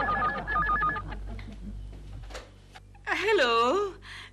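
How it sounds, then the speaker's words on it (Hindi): A phone's electronic tones chirp repeatedly at first, then give way to a warbling ring, with a voice speaking briefly in between. "अच्छा हुआ दिलरुबा जी आपने फोन किया।"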